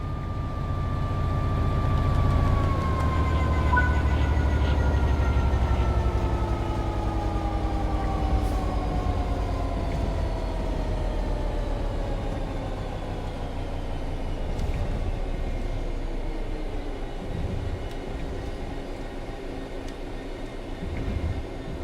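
A train in Train Sim World 3 coasts on level ground with the throttle at zero. A steady low rumble runs under several whining tones that glide slowly downward as it gradually loses speed, continuous and close, with no voices.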